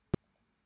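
A single sharp computer mouse click, brief and close, followed by quiet.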